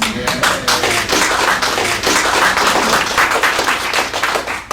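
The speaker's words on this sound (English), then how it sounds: "Yes, that deserves a clap." A crowd bursts into loud, sustained clapping that fills the whole clip, dense and close.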